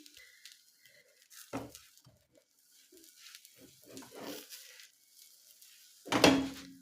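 A vegetable crepe frying in an oiled pan gives faint intermittent sizzling, then a louder clatter and burst of sizzle as it is flipped near the end, with low background murmur.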